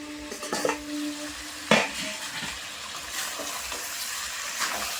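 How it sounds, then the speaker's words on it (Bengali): Chicken pieces sizzle and fry in a pan for chicken kosha while a spatula stirs and scrapes them, with a few sharp clinks over a steady frying hiss. "তো এভাবে নেড়ে নেড়ে আমি কিন্তু মাংসটা খুব সুন্দর করে কষিয়ে নেব"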